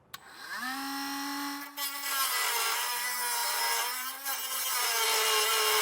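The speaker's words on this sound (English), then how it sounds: "So for this instance, I am going to use my Dremel." A handheld Dremel rotary tool with a cutting wheel whines steadily at high speed while enlarging notches for trailer hitch hardware on a 2024 GMC Terrain, its pitch dipping briefly under load at two points and then recovering, loud and close.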